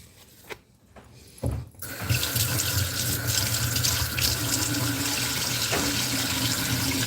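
Tap water runs into a sink while a fork is washed, beginning with a few clinks and handling noises before settling into a loud, steady gushing stream.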